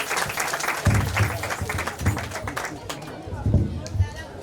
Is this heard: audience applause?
yes